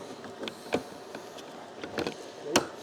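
M5 end bolts on a gloss black spoiler fitted to a Mercedes-Benz A-Class being tightened: quiet, close, short ratcheting clicks in uneven bursts, the last one slightly louder, with no speech.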